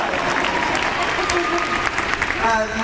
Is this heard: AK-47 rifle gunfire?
no